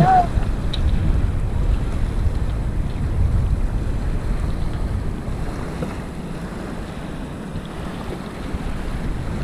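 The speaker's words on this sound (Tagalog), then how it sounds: "Ito naman yung dagat." Sea waves wash onto the pebble beach at Malagundi Point in Lobo, Batangas, under a steady roar of wind buffeting the microphone, forming a continuous, fairly loud wash with no clear breaks.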